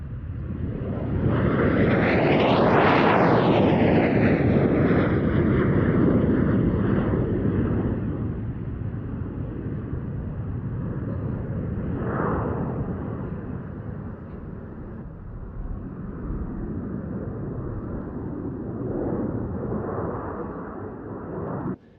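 A military jet at the Mildenhall Air Fete air show roars past loud and close, its pitch sweeping down as it passes. The roar then fades to a long rumble, with a second, softer pass later.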